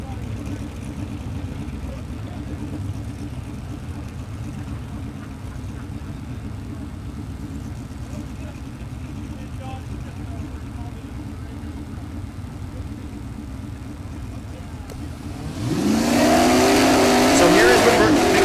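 Drag race car with a Roots-blown Gen 3 Hemi at Mid America Dragway, Kansas, idling as a low rumble under talk before bursting into a loud, rising revving roar in the last few seconds.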